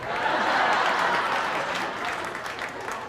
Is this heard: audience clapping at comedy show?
yes